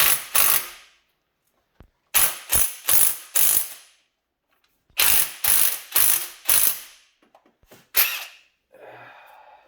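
Loud, close bursts of an impact wrench hammering in short rattling runs during an engine teardown, separated by pauses, ending with faint clinks and a soft whir.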